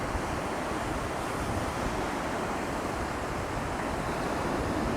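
Ocean surf on a beach in Morocco, a dense, continuous wash of breaking waves with wind buffeting the microphone, loud and steady, with no talking.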